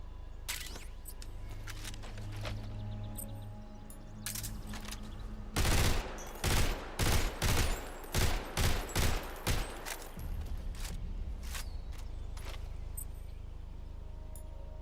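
Gunfire in a Metal Gear Solid game, a burst of roughly ten sharp, evenly spaced shots in the middle over a low ambient hum, with quieter pops before and after.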